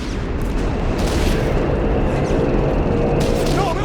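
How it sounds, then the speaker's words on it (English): An airstrike blasts a battlefield in Company of Heroes 3 with a dense, rumbling wall of explosions. The heavy boom rolls on through the whole stretch and drowns out everything else. "incoming airstrike!"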